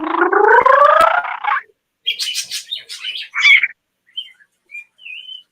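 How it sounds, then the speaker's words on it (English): An African grey parrot produces a run of varied calls up close: a long gargling, rising warble, then several short chirps and squawks, and finally faint, thin whistles separated by brief silences. "just listening to Marco just making all the different noises and stuff that she makes"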